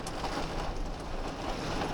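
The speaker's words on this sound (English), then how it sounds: "Is it hail?" Hail mixed with rain drums steadily on a camper van parked on a sandbank in Spain, a dense close patter with no pauses and no voices.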